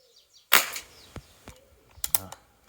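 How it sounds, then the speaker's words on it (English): A single sharp CO2 airgun muzzle report cracks up close, followed by a few lighter mechanical clicks and taps. "Muzzle report keeps getting louder though."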